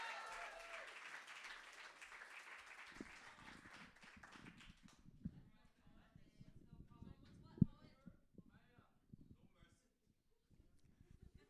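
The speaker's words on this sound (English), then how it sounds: "please give a warm, thunderous round of applause to Maya Spoken, everyone" Audience applause for a slam poet at a Canadian poetry competition fills the first few seconds, dense and steady, then fades as a lone voice starts speaking with scattered faint claps and a sharp tap.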